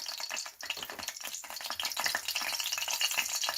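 Zucchini slices coated in flour and starch fry in a pan over low heat, giving a steady, close crackling sizzle with rattling pops that grow denser toward the end. No one talks.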